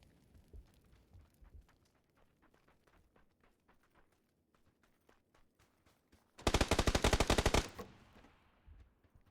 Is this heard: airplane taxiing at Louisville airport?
no